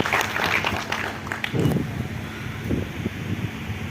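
Audience applause welcoming a distinguished guest at a Manohar Lal 86th birth anniversary function: a steady, broad wash of clapping that fills the whole stretch at moderate loudness, with some blustery, noisy background texture.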